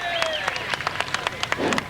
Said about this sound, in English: Nice round of applause for the flying sign painter, Dave Brunel